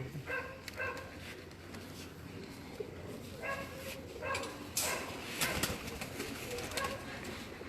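Pigeons in a loft coo in soft, repeated throaty bursts amid a busy background, with a dog whining briefly and people speaking nearby.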